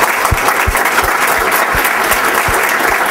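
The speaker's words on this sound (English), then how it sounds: "let's give Lindsey a round of applause" Dense, steady applause from an indoor audience at a tech talk, filling the whole stretch at an even, loud level with no voices breaking through.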